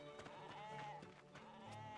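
Sheep bleating in RuneScape 3 as one is sheared, a short game-sound bleat with a wavering pitched cry over a steady background of in-game ambience.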